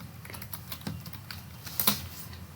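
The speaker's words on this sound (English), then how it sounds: "So I'm going to type in the search bar education." Computer keyboard typed on in a quiet room, a quick run of light, close clicking keystrokes with small pauses between bursts.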